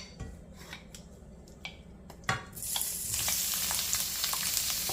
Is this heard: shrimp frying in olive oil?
yes